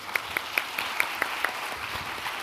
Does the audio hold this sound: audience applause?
yes